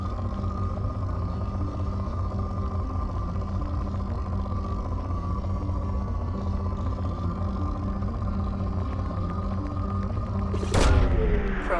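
A probe launching in Mass Effect, a single sharp whooshing burst near the end above a steady low engine drone.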